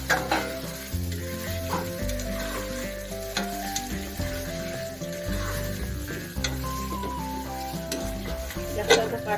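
Meat and browned onions sizzle in a pot for biryani while being stirred, with repeated scraping and clinks of the utensil over a steady frying hiss and no speech.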